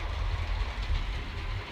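A model train runs on the upper-level trestle of a multi-level home layout, giving a steady low rumble and hum that stays close and even for the whole stretch, with no voices.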